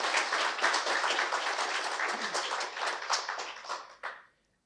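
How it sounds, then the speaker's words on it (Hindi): Applause from the audience at an official-language conference, a dense burst of many hands clapping that holds steady, then thins out and stops abruptly into silence. "तो एक बार अपने लिए भी तालियां बजा"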